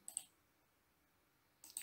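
Mouse clicks while working in Google Docs on a computer: a quick pair of faint, sharp clicks at the start and another pair near the end, with near-silence between.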